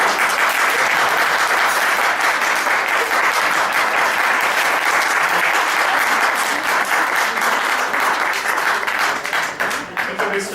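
An audience at a Holi gathering breaks into dense, sustained applause, the clapping loud and even throughout with a few voices mixed in before it starts to thin at the end.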